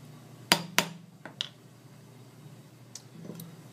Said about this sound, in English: use the flat surface on the anvil along with the soft hammer to slowly pound and re-flatten areas